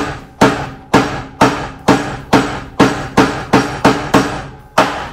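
Steady hammer blows driving an axe head onto its wooden handle, about ten sharp, loud, evenly spaced strikes ringing out with no talk.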